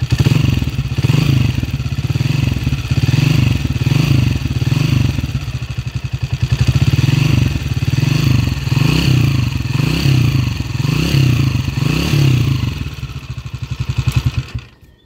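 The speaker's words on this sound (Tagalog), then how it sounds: "pakinggan natin yung motor ng girl from Alcala, Pangasinan" A motorcycle engine idles close and loud with a rapid, pulsing rhythm and slight uneven rises, running steadily before cutting off near the end.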